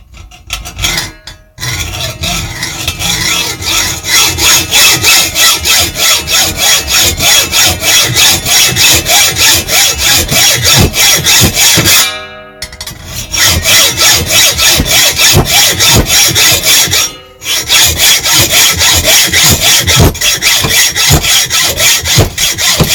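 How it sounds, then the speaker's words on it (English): A hacksaw cuts through a metal suspension link rod in quick, loud, rhythmic strokes close by, continuing steadily with two short pauses. "just cut the rod roughly with the hacksaw"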